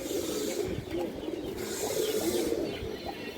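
Pigeon cooing from an old-line Muslim male pigeon with a short boot beak, soft repeated coos close by over a steady background hum.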